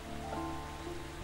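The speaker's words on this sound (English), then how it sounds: "But now it's actual rain sounds going on." Steady rain with a constant hiss over a low hum and a faint tonal drone, an even, unbroken wash heard alone without any voices.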